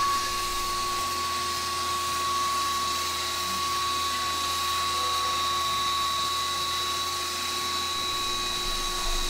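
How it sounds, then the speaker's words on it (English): A vacuum cleaner runs during CNC milling of a wood plaque on a metal milling machine, a steady, continuous whine with a bright tonal hum that stays even and loud throughout without pause. "I also have the vacuum cleaner going for most of these cuts"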